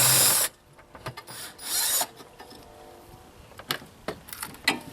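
Hand or power ratchet loosening a nut on the torque strut mount of a Buick Enclave, close and fairly quiet: short bursts of rapid clicking with gaps between them, no speech.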